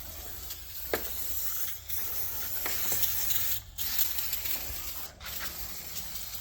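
Cleaner sprayed onto a diesel Saab 9-3 during cleaning: repeated short hissing spray bursts, fairly close, with a steady broadband hiss between them and no talk.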